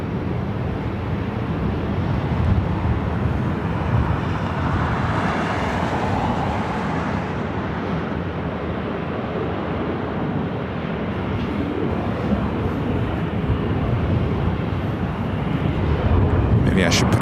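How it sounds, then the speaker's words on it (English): A Southwest Airlines Boeing 737 MAX 8 arriving at LAX from Dallas Love Field, a broad continuous jet roar that holds loud and steady for the whole stretch, a voice talking over it. "SF Southwest Airlines flight 1970 coming in from Dallas Love Field, the 737 MAX 8, number 2 for arrival here on the north side"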